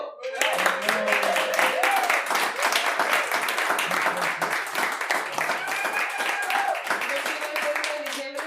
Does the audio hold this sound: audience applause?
yes